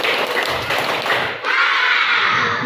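Two hand claps from a group in a classroom, sharp and fairly close, ringing out over a noisy room.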